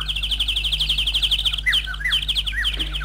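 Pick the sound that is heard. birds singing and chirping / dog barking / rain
birds singing and chirping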